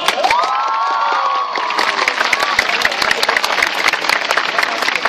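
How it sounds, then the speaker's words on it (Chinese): Audience applause welcoming director Ko Yi-cheng at an anti-services-trade gathering, a dense burst of clapping and cheers filling the hall throughout, with a brief whistle-like tone rising near the start. "那我们再热烈掌声欢迎柯导"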